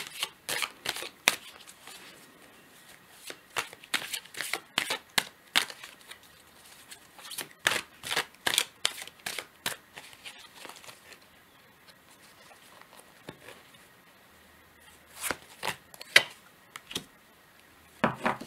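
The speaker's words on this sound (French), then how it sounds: "On va tirer une deuxième carte pour un message pour vous." Tarot cards are shuffled and drawn: a long run of crisp, rapid flicks and riffles in irregular bursts, with short pauses between, up close and with no talking.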